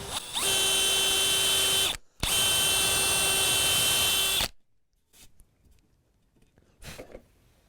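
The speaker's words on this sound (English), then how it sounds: "let's drill another hole." A power drill fitted with a Fastcap Flushmount bit bores a hole in cabinet material, whining loudly in two sustained bursts split by a brief pause, then goes quiet apart from a few faint handling clicks.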